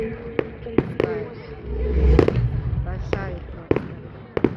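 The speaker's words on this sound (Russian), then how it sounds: "Такие классные салюты у нас пускают." A Midsummer Night (Jaanituli) fireworks display, with sharp explosive bangs scattered irregularly, some near and loud, over a rumbling crackling background as people talk.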